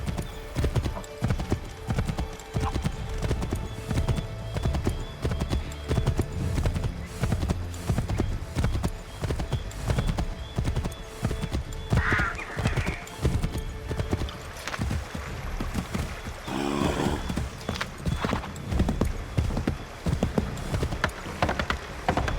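Horse hooves in a video game keep up a steady, dense clip-clop across the whole stretch, with a whinny or two and game sounds in the background.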